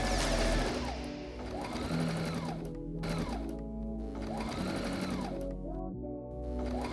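Sewing machine stitching the lining of a fabric laptop pouch, running in steady continuous bursts with brief pauses between seams, close and clear with no talking.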